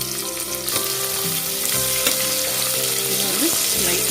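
Large sliced onions sizzle loudly and continuously in hot oil with spices for a chicken white pulao, with occasional utensil scrapes and tonal clinks over the frying, no voices.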